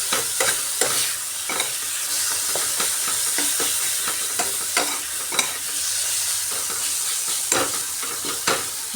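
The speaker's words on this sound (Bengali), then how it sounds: "মশলাটা খুব সুন্দর কষানো হয়ে গেছে।" Spice masala for a South Indian-style egg dish is sautéed in a pan, with a steady sizzle broken by repeated scraping strokes of a spoon stirring close by.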